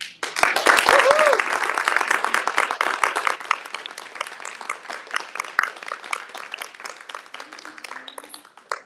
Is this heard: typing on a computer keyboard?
no